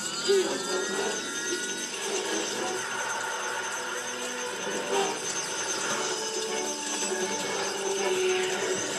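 Aircraft engine throttling up for takeoff on a plane running on plant-based fuel, a steady loud engine roar with whining tones held throughout, swelling slightly near the start and end.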